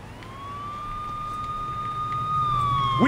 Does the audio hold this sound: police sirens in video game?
yes